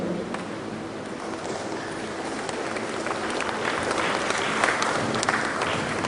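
Steady applause from a church congregation at an evangelistic fiesta praise and worship service, a dense continuous patter of clapping that holds evenly for about six seconds with a faint swell near the end.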